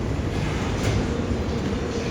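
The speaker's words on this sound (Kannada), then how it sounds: "ಇದು ಟ್ರೈನ್ ಇದೆ." Airport terminal shuttle train running between gate concourses in the USA, a steady close rumble of wheels and car body with a faint clickety-clack, continuous with no talking.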